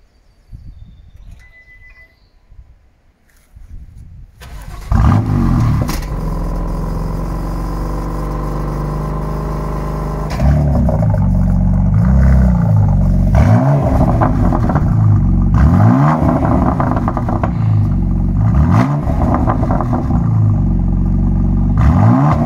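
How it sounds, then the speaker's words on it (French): A BMW M2 Competition F87 with the S55 engine is quiet at first, then cranks and fires into a loud, close idle. Around ten seconds in it starts a series of repeated sharp revs. "tu nous démarres la bête, histoire qu'on entende le bruit de ce S55."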